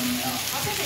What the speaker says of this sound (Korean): 삼겹살 굽는데 좀 시간이 걸리네요